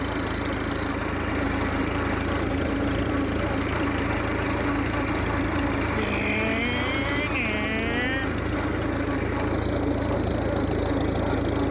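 A 1938 Farmall F-20 tractor engine drones loud and steady while driving in road gear, with a rumbling, knocking low tone throughout and brief voices heard over it midway.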